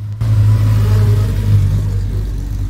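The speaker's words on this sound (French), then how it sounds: "Là arrive une jolie 911 Carrera RS 3 litres." A Porsche 911 Carrera RS 3.0 race car arrives with a loud, low engine rumble that swells and holds steady nearby, then eases slightly.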